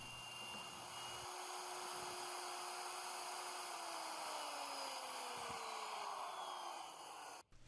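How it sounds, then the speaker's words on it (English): A router fitted with a T-slot bit runs at a loud, steady high-pitched whine while cutting a half-inch-deep pass in wood. Its pitch drops slightly as it bites into the cut before the sound abruptly stops. "we're going to make a pass with the router and see how it goes"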